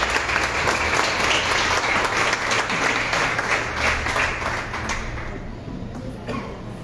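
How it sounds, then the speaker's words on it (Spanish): An audience at a literary talk gives a guest warm applause, with thick, close clapping from many people that thins and fades gradually toward the end. "por favor, con mucho cariño, un aplauso para tan brillante invitada."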